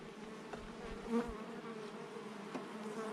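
Honeybees buzz around an opened beehive on a Portuguese farm, a quiet continuous hum with individual bees passing close now and then.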